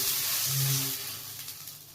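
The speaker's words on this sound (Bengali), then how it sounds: "এবার আমি কড়াইতে জল দিয়ে দিচ্ছি।" Water is poured into a hot kadai used for frying biscuits, giving a brief, close, loud hissing sizzle that fades within two seconds.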